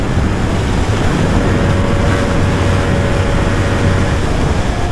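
Steady, loud roaring wind buffeting against a motorcycle helmet at highway speed at night, a constant broadband rush with low rumble and no talking.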